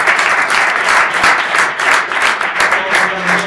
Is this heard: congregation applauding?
yes